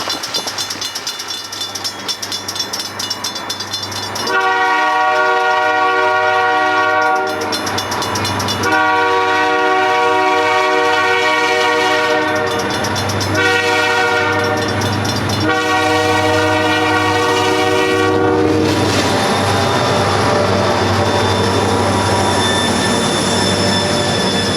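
A locomotive runs through snow near Colwich, its horn blaring in several long loud blasts with brief breaks over a steady rumble of wheels and engine.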